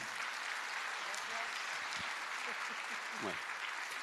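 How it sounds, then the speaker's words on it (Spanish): Audience applause at a live evening event, a steady dense clatter of clapping filling the room for the whole stretch, with a few faint voices mixed in underneath. "Un aplauso"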